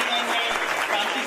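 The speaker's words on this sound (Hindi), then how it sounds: "जोरदार तालियां" Audience applause at a Dwarikamai charity organisation's conference of office-bearers and workers, a brief, dense burst of clapping from a crowd with voices mixed in.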